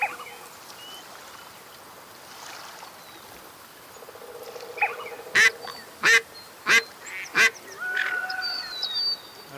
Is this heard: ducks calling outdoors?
yes